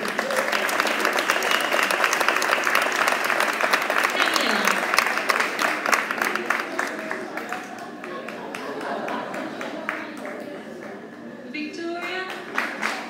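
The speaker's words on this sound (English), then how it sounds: "as we applaud 5S as they go back to their seats" Audience applause at a school prize giving as a class returns to their seats: sustained, fairly loud crowd clapping throughout, with some voices and cheers mixed in.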